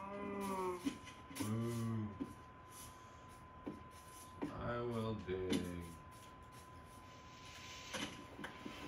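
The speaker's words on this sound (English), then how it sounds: "Moo. Two cows." Cows mooing in Minecraft: several drawn-out, tonal moos come in clusters over a steady background hum, fairly loud and close.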